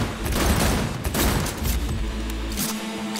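Heavy gunfire from a firefight in the Cyberpunk 2077 video game roars in a dense, loud burst of rapid shots and booms, continuous throughout with no pauses.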